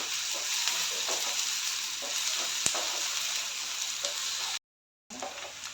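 Finely chopped onions, two medium ones, frying in a pan for spicy masala prawns, a dense continuous sizzle with faint stirring taps and one sharp click, cut by a short silent gap before resuming.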